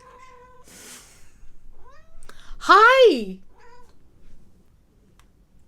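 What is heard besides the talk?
cat meowing at the window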